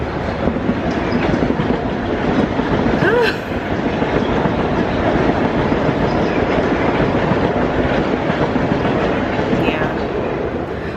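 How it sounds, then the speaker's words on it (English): A train rolls past close by in a city, a steady loud rumble and rattle of wheels on rails lasting throughout with no letup. "Here goes the train."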